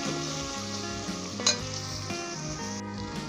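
Chicken liver, gizzard and heart masala frying in a pan, a steady close sizzle running throughout with a brief clink of a utensil midway.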